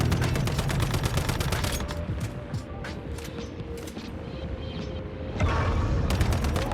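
Rapid gunfire in the video game Once Human, dense bursts of shots crackling continuously through the whole stretch, loud and close with a busy battle din underneath and a brief easing in the middle before it swells again.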